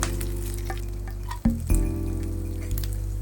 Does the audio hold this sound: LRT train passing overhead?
no